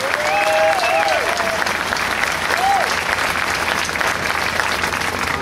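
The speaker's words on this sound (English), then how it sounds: "Let's give them a round of applause every time somebody gets up here to speak" A crowd at an outdoor Tax Day Tea Party rally in St. Louis applauds a speaker, steady dense clapping throughout with a few whistles and cheers rising above it.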